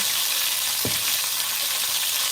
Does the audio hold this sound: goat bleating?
no